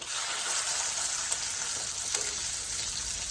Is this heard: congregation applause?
no